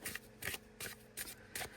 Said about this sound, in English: my shuffling is pretty much just this.